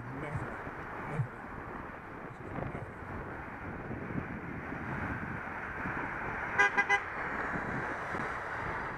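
A car horn gives a few quick toots at a cyclist on a road, short and fairly close, amid wind noise, traffic and speech.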